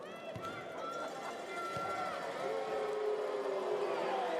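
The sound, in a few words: basketball crowd getting involved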